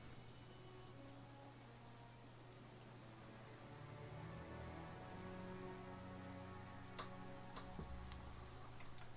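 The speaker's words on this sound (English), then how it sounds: "It's raining quite heavily on this map now." Heavy rain falls on the map in Pathfinder: Kingmaker, a quiet, steady patter of drops with faint ticking over low game music tones.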